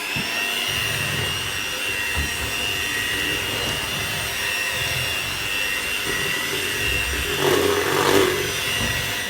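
An electric hand mixer whirs steadily through biscuit dough made from three ingredients, a continuous loud motor drone with slight shifts in pitch and a brief rise in intensity near the end, with no talking.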